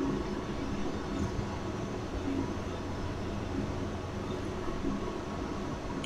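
Steady rumble and hiss from the cab of a BR 143 locomotive hauling a passenger train on a rainy morning, a continuous even drone with no distinct events and no talking.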